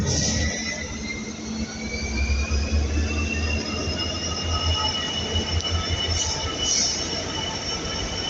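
A train rolls steadily along the rails with a continuous rumble and long, high metallic wheel squeals sliding in pitch.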